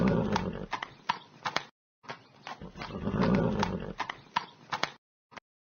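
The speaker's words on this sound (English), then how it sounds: "Horse." A horse heard in short bursts, with snorting, neighing sounds and sharp hoof clip-clops separated by brief silences.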